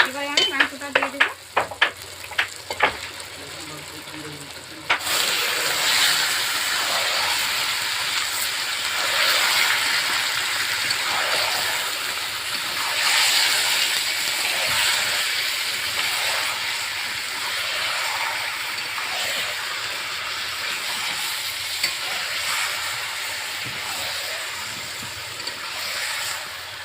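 Chicken meat frying in a spiced masala, a loud steady sizzle with repeated stirring scrapes throughout, close up, after a few sharp clinks at the start.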